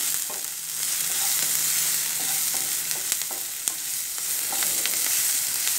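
Egg thoran frying in a pan, with a continuous close sizzle broken by occasional scraping and tapping as it is stirred, no voices.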